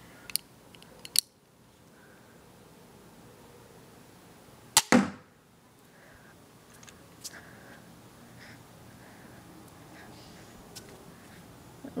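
A mini crossbow fires a steel-tipped bolt into a trash can: a sharp snap of release, then a loud impact thwack a few seconds later, close by, with quiet room tone between.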